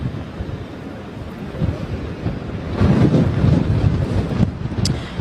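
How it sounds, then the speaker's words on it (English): Strong storm winds roar across the Sea Point coastline, buffeting the microphone in a loud, continuous rush with surges and gusts, with no talking. "I know it's difficult for you to hear me with the winds around you"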